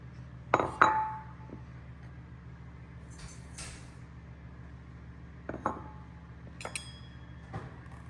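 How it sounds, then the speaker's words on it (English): Dry ingredients such as sugar, salt and baking powder tipped into a glass bowl, heard as a few sharp clinks and taps on glass spread out over quiet room noise. "So we're just gonna combine all the dry ingredients. No particular order, just throwing them in."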